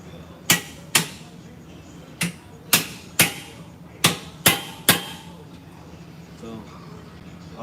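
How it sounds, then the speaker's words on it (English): Pry bar striking and levering at a wheel seal on a semi-truck hub, giving eight sharp metallic knocks in an irregular rhythm, close and loud, before the sound trails off into quiet shop noise. "I'm gonna see if I get it out with my pry bar first before I go walk over to get the seal puller."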